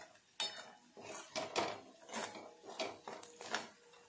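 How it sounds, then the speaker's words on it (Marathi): A spoon scrapes and clatters against a pan while vegetable curry is stirred continuously until the oil separates, giving a series of irregular metallic scrapes and knocks, close and fairly clear, with no talking. "तर इथे आपण छानपैकी तेल सुटेपर्यंत इथे सतत हलवत राहणार आहोत"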